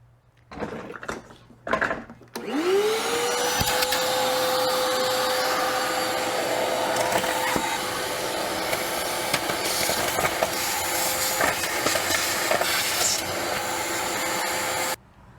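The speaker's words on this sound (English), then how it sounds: "I'm gonna vacuum all this dirt before I install the new one." After a few knocks, a vacuum cleaner switches on and whines steadily and close, with brief rattles and clicks as it sucks up dirt where a 2014 GMC Sierra's AC condenser was removed.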